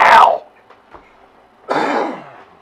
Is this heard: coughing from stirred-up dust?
yes